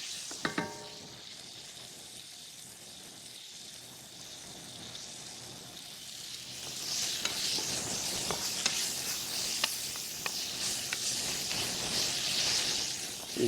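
Marinated taco meat sizzles and browns in a hot pan for street tacos: a steady frying hiss that grows louder partway through, with scattered pops and a few stirring scrapes, close up and with no talk.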